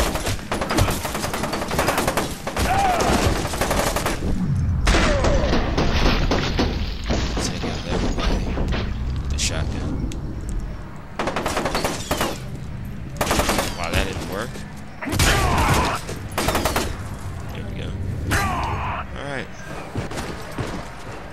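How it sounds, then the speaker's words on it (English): Shotgun blasts in the video game Fear 2: Project Origin, loud heavy booms repeating in quick succession amid a busy, sustained firefight of other gunfire and crashes, with voices talking over it. "Just take the shotgun out."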